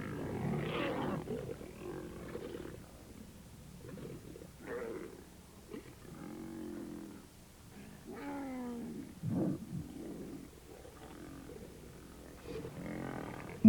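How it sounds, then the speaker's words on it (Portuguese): Lions growl and snarl as they squabble, with deep rumbling roars and bursts of harsh growling in uneven spurts, close and fairly loud against a quiet wild background. "Em meio de tantos rosnados e discussões, a leoa acha que os lutadores estão bem preocupados com sua luta"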